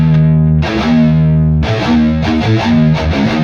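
A distorted electric guitar plays a riff, a gritty run of sustained chords and quicker notes, loud and unaccompanied.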